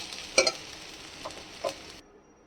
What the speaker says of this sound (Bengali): দিয়ে এবার এটাকে নেড়ে ব্যাস গ্যাসের ফ্লেমটা বন্ধ করে দেব